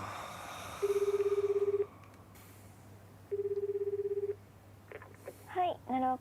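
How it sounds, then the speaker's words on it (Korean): A landline telephone handset gives two long, steady ringing tones with a pause between them, then a voice starts speaking. "수화기를 들었다가 습관적으로 마유에게 전화를 걸고 맙니다"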